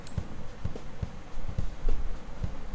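Unmixed kick drum track from a full rock song mix, playing a steady pattern of low thuds roughly every half second, heard alone with faint bleed from the rest of the kit.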